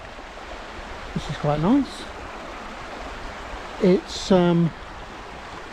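Steady broadband rush of a low river flowing after a dry week, heard outdoors on a walking path as continuous noise beneath brief bursts of someone talking.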